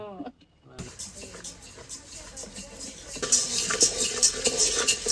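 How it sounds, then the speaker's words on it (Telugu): A spatula works maida and semolina around a hot pan for Sankranti treats, scraping and tapping in quick repeated strokes that grow louder partway through, with faint talk underneath. "అట్లా కలుపుతా ఉండాలా మాడిపోకుండా"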